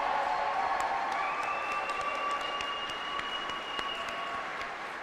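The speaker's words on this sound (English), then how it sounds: "Can we get one more round of applause" Applause from a crowd at a Manitoba Pride celebration with the provincial premier, a soft, distant patter of clapping that fades slowly, with a thin sustained tone running above it.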